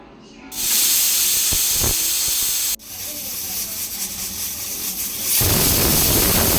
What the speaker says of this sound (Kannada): ಸ್ವಲ್ಪ ಕುದಿ ಬತ್ತಿದಂಗೆ ಕುಕ್ಕರ್ ಮುಚ್ಚಳ ಮುಚ್ಚಿ ಅದು 2 ವಿಸಿಲ್ ಬರ್ಸ್ಕೊಂಡ್ರೆ ಸಾಕು.